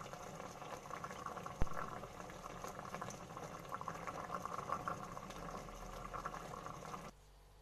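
Zucchini and veal tagine sauce simmering in a pot bubbles softly and steadily, with a single sharp tap early on, and cuts off abruptly near the end.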